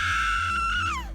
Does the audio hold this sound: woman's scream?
yes